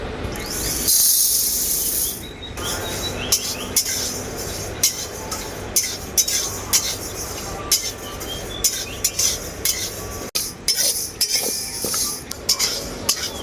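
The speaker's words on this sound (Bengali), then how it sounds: "মুগ ডালটা আমি শুকনো কড়াই ভেজে নেব প্রথমে" Dry moong dal being roasted and stirred in a dry kadai, with a steady close hiss and repeated sharp scrapes and clinks of a spatula against the pan throughout.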